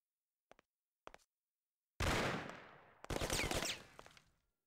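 Sharp gunshots ring out in the video game Mafia: two quick single pops, then a long sustained burst of rapid fire, a brief pause, and another heavy volley that fades away.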